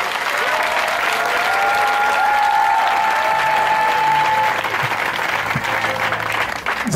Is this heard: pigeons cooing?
no